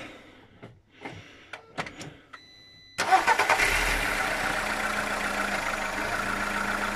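A Volkswagen Golf 1 with an 80 hp engine, up on ramps: a few clicks and knocks, then the starter cranks briefly and the engine catches, settling into a steady, smooth idle close by.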